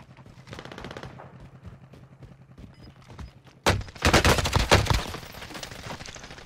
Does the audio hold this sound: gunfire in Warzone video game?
yes